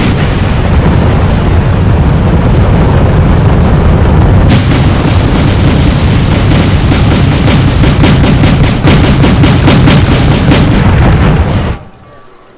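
Artillery fire in a video game as a loud, continuous barrage of booming explosions and rapid bursts, close and dense, cutting off abruptly near the end.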